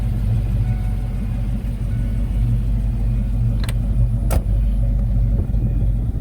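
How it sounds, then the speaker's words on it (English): A 1993 Ford Mustang LX 5.0 notchback with a full aftermarket exhaust, idling with a low steady rumble close by, broken by a couple of brief sharp knocks. "Full master exhaust system."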